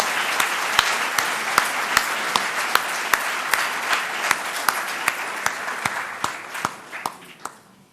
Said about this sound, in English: Please welcome Dr. Prema Pandurang with a thunderous round of applause.